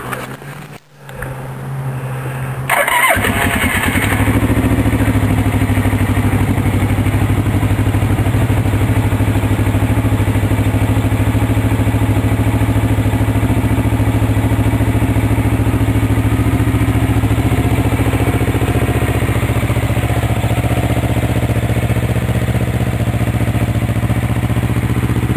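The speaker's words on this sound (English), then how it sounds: "We'll start it right from the choke, full choke." A 1983 Suzuki GR650 motorcycle started on full choke cranks briefly, then settles into a steady, smooth, quiet idle that runs continuously at close range with no talking.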